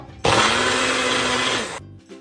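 An electric blender grinds two onions and ten to twelve garlic cloves into a masala paste, a loud harsh whir starting abruptly, running for about a second and a half, then winding down.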